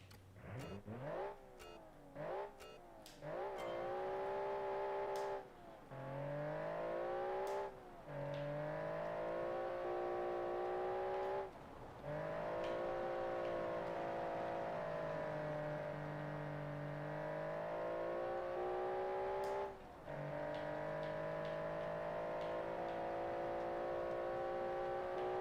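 Group B rally car engine, freshly retuned for more mid-range, revving repeatedly with sharp blips that fall into long sustained holds at steady rpm, loud and close, with no talk.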